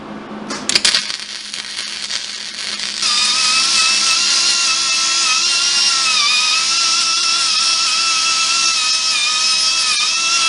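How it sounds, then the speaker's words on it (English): Flux-core welding joins a homemade shovel to a metal detector: after a few sharp taps and clanks, a loud, steady, close crackling hiss with a faint whine runs unbroken to the end. "Let's get these welded up."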